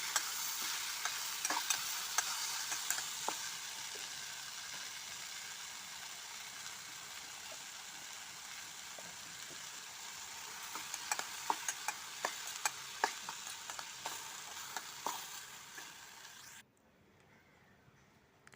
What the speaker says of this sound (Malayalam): എന്നിട്ട് നന്നായി ഒന്ന് മിക്സ് ചെയ്ത ശേഷം നല്ല മുളക് പൊടി ചേർത്ത് കൊടുക്കുക.